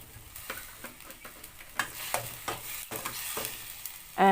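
Pork stir-frying with basil in a pan, a bright sizzle under regular scraping and tossing strokes of a spatula, close and steady, ending with a louder clatter.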